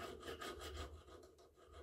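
The backside of an old drill is rubbed back and forth over a tool surface during gunmaker's tool maintenance, making a steady, close rasping scrape in repeated even strokes with no voices.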